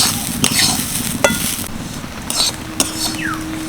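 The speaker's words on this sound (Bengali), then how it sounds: "মুগ ডাল বেশ সুন্দর করে ভেজে নিয়েছি" Mung dal dry-roasts in a pan, giving a soft crackling hiss broken by several sharp scrapes and taps of a spatula turning the lentils, heard close and with no talk.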